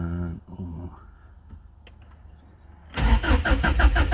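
A 1995 JDM Subaru WRX engine cranks without firing: a faint early churn, a quiet gap with small clicks, then a loud, close starter whirr with a fast, even chugging rhythm that never catches.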